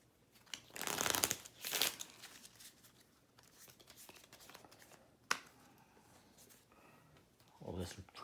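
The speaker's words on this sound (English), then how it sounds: "I am going to shuffle up and deal 12 cards" A deck of playing cards being shuffled and dealt for the card game Ghosts of Christmas, with loud riffle bursts followed by softer flicks and slides as cards are laid out, with someone talking in between.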